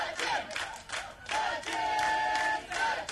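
Office staff cheer together for Sachin, a loud sustained crowd roar with shouts and whistles rising and falling over about three seconds, with applause mixed in.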